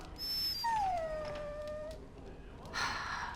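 A dog in Dragon Age: Origins gives one drawn-out whimpering whine that slides downward in pitch, close and clear, followed by a soft breathy rustle.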